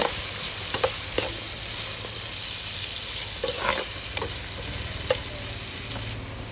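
Onions frying in a pan for chicken masala, a steady close sizzle with scattered scraping stirs and clicks of a utensil throughout, no voices.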